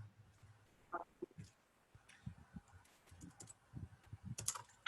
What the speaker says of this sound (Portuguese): Estou digitando aqui para vocês.